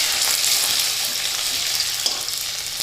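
Finely chopped ginger and garlic sautéing in a hot pan, a steady close hiss and sizzle with light crackles and occasional stirring sounds, no talk.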